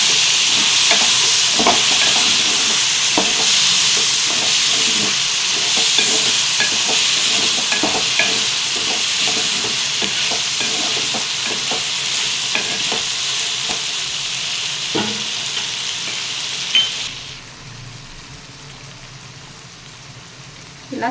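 A pan of Palnadu-style bottle gourd sambar simmers with a steady, loud bubbling sizzle and occasional stirring clicks, easing off slightly near the end.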